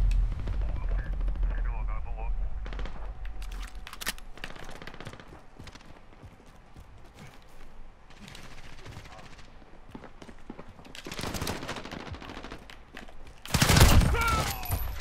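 Automatic gunfire in a Call of Duty: Modern Warfare multiplayer match, rapid bursts of shots broken by pauses and ending in a loud, close flurry, with a voice talking over parts of it.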